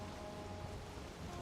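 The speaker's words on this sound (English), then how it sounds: "It's either getting dark. Nope, getting rainy." Rain falls steadily in the Valheim game world, a soft, even hiss of drops on surfaces that runs unbroken and faint throughout.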